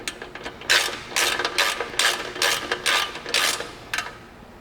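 Rapid bursts of a hand ratchet tightening the fairlead bolts on a Polaris RZR XP Pro front bumper, several short clicking strokes in quick rhythm, close and clear with no talk.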